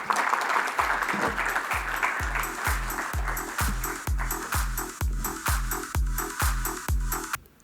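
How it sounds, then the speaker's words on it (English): An audience at a talk applauds steadily, the clapping loud and dense throughout before cutting off abruptly at the end. "A round of applause for him."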